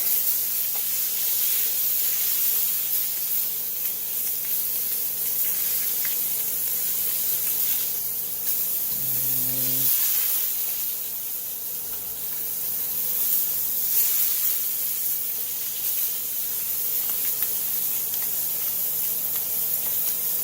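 Steak searing in a hot pan gives a loud, continuous, close hiss that swells and eases slightly, with a brief tonal beep partway through.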